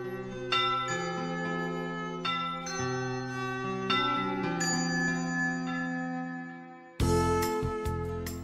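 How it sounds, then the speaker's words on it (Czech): The wish bell at Lake Bled in Slovenia is rung by pulling its rope: a run of clear metallic strikes, each ringing on with a long resonant hum, with a louder, brighter strike near the end. "Všichni si ale chtějí hlavně zatáhnout za provaz zvonu, který jim splní jejich přání"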